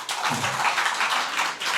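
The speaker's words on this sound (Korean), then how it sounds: "큰 박수 부탁드리겠습니다." Brief burst of audience clapping at a Korean mayoral candidacy press conference, a short scattered round of hand claps from a modest crowd indoors.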